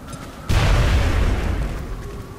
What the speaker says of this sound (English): We can frag the fucker. Okay, say good fucking bye.